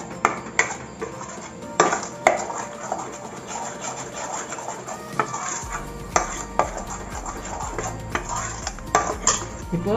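A spoon stirs and scrapes pani puri masala in a pan, sautéing it with repeated metallic clinks and scrapes over a low, steady cooking hiss; no one speaks.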